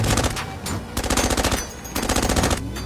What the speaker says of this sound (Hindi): Sniper fire 11 o'clock।